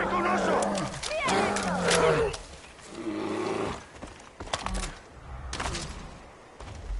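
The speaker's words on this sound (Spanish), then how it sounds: "¡Me ataca un oso!" A bear in the video game Far Cry 5 roars and growls in rough, rumbling bursts as it attacks, loud and close, mixed with scuffling game noise and thuds through the middle and end.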